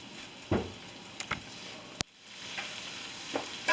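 Shepherd's pie filling stirred in a hot pan, a soft steady sizzle with a few scraping spoon strokes and one sharp clack of the utensil against the pan.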